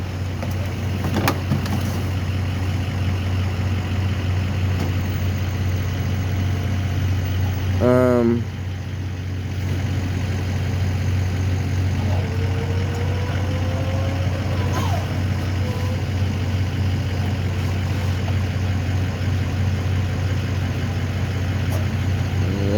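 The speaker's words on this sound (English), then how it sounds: "Precision Towing is gonna tow the vehicle now." A Precision Towing tow truck idles steadily with a low engine drone while hauling away a vehicle at a street scene, with brief voices heard nearby.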